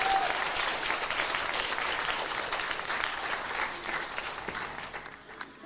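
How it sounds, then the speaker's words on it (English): Sustained audience applause fills the hall at a learning disabilities and autism leaders' awards ceremony, dense and loud at first, then gradually thinning and fading toward the end. "I think that deserves a round of applause."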